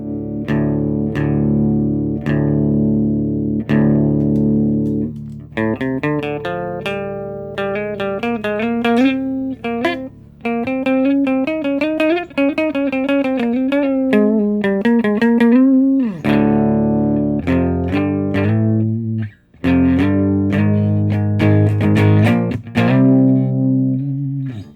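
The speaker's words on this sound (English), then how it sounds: "Let's turn on the overdrive." Electric guitar driven through a Sondery overdrive pedal, playing a loud, continuous run of sustained chords and quick single-note riffs with a gritty, saturated edge, alone with no talking and a brief dropout near the end.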